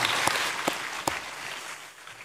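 A church congregation claps steadily for a couple of seconds during a worship service, with a few louder individual claps standing out, fading slightly at the end.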